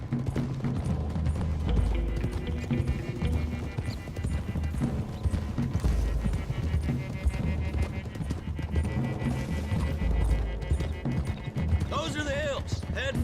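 Horses galloping in Red Dead Redemption 2, a steady rolling clip-clop of several horses running throughout, loud and close under ongoing talk and background music.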